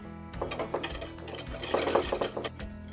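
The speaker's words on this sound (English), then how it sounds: "Let's get it stirred." A spoon stirs a cocoa mixture in a pot over medium-high heat, making soft, uneven scraping and sloshing sounds under a low steady hum.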